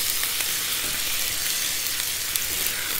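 Tomato sauce with meatballs sizzles steadily in a pan while being stirred, a constant bright frying hiss with faint scraping, close and alone.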